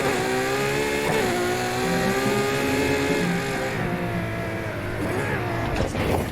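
A car engine revs hard and holds a loud, steady drone while driving in Need for Speed Heat, pitch climbing and shifting through gears, with a brief mumbled voice over it near the end.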